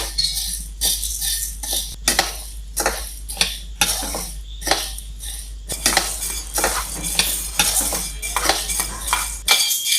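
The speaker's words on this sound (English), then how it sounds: "Let's start with roasting of the green moong. We are doing a dry roast." Green moong dry roasting in a wok on a gas stove, rapid repeated scraping and rattling of a spatula against metal, busy and close, with a faint low hum underneath.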